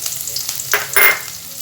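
Sliced onion and curry leaves hit hot oil in a pan after mustard seeds have popped, giving a short burst of loud, close sizzling and stirring that hisses up sharply and then settles, with no voices.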